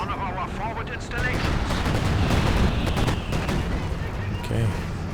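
An artillery barrage in Company of Heroes 2 brings dense, booming blasts and crackling gunfire that swell and fade over a few seconds, with a voice talking over them.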